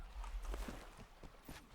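Horse hooves clatter in the Mount and Blade: Warband video game as a mount climbs a hill during a battle, a quick series of soft, close clip-clop hits over a steady low rumble.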